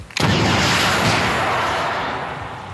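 A rocket launcher fires in a sandbox video game: one loud, sharp blast at the start, then a broad roaring rush that slowly fades over the following seconds.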